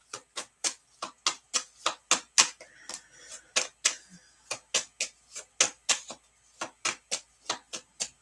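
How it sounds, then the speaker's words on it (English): Tarot cards shuffled in the hand give a steady run of sharp, crisp riffling snaps, about three per second, close and fairly loud with no talk. "you can tell I'm shuffling and shuffling"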